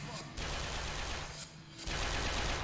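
Bursts of gunfire in Bioshock Infinite, loud rapid shooting in two stretches separated by a brief lull, with a voice faintly present.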